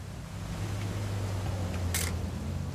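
Old camera in What Remains of Edith Finch, a single sharp shutter click near the end over a low hum of rain and ambience.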